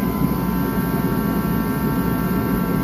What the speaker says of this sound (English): The heater's blasting over there.